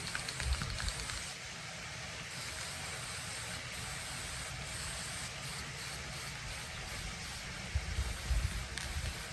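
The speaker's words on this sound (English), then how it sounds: "And when I'm spraying this, I want it to go a little above that curve." A steady aerosol spray paint can hisses continuously at close range, coating a tumbler, with faint clicks and handling noises around the edges.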